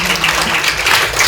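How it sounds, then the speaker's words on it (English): An audience applauds at a Women's Day school programme, a brief burst of dense, steady clapping from a crowd, close and fairly loud. "Big round of applause for her."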